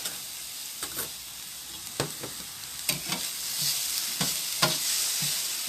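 A spoon scrapes and stirs through food frying in a pan with garlic and mint, a steady sizzle under irregular knocks and scrapes, close and fairly quiet, with no talking.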